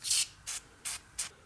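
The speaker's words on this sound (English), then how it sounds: "What we're going to use here is some of this spray away foaming glass cleaner" Four short bursts of foaming glass cleaner sprayed onto the bump stop of a Ram 2500 pickup during a Timbren bump stop install, each hiss lasting about a quarter second with even gaps, close and alone.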